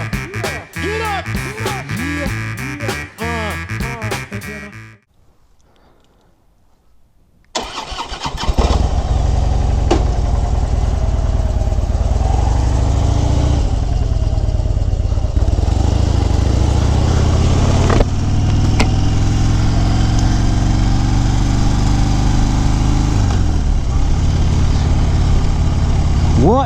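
A 2013 Harley-Davidson Fat Bob cranks over, falls quiet for a moment, then fires and settles into a loud, close, continuous idle rumble, alone without talk.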